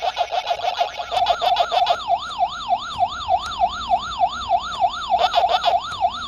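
The ghost siren from a Pac-Man arcade-style game wails in a fast, regular up-and-down sweep, mixed with chirpy game effects and quickening partway through, loud and with no voices over it.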